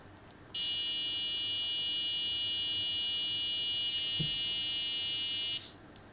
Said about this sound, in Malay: disebabkan saya menggunakan papan microbit versi kedua, dia ada buzzer terbina